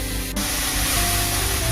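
Gime greens dropped into a hot pan with turmeric and salt in a home kitchen, giving a steady close hissing sizzle that holds at an even level throughout.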